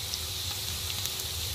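Boneless chicken pieces fry in oil for a cashew nut salad, giving a brief, steady hiss and fine crackle heard up close with no voices.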